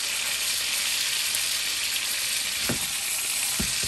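Steak pan frying, a dense, loud, continuous sizzle close up, with a couple of brief thuds near the end.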